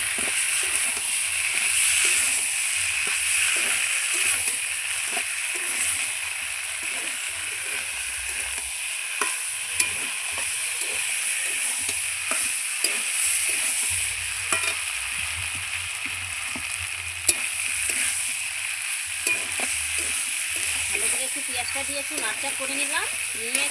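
Onion fries in oil with a duck egg and capsicum dish underway, a loud, continuous close sizzle with a broad hiss and occasional stirring clatter, sustained throughout.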